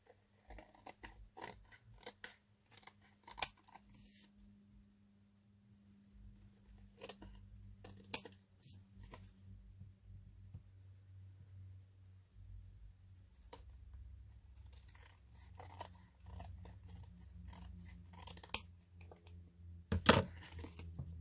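Scissors snip and trim the edges of a die-cut paper journal with washi tape stuck to it, giving close, intermittent cuts and rustles with quiet gaps between them.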